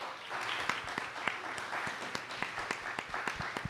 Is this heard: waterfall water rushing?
no